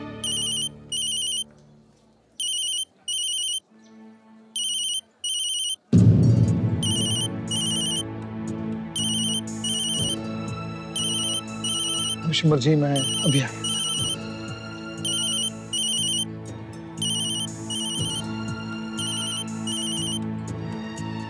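A telephone ringtone trills in short repeating bursts, first alone in a quiet room, then continuing over music and voices in an Indian TV drama scene as someone speaks.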